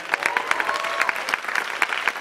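Audience applause at a gala evening of star performances, a steady wash of clapping with sharp individual claps standing out throughout, close and fairly loud with no speech.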